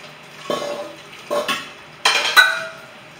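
Egusi stew being stirred in a Saladmaster pot in a kitchen, four separate scraping, clinking strokes of a utensil against the metal pot, close up, with no talk.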